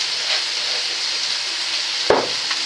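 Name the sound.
lardons (bacon bits) frying in a pan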